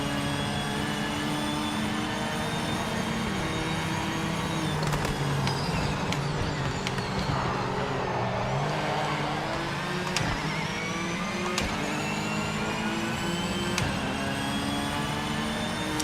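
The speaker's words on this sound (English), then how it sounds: "I really like the sound, the whistle of this Supra as it picks up speed." Toyota Supra in a racing video game accelerating, its engine note carrying a steady rising turbo-like whistle over a continuous, loud drone with layered harmonics, no talking.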